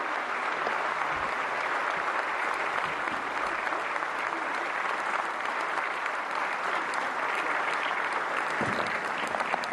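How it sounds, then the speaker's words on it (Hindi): An audience at India's National Film Awards ceremony claps loudly and continuously to welcome the President, a dense wash of applause that holds steady from start to finish. "जोरदार तालियों से स्वागत करें देश की राष्ट्रपति"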